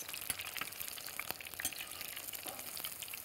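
Jalapeños frying in sunflower oil give a quiet, steady sizzle with occasional small pops and crackles, heard alone without speech.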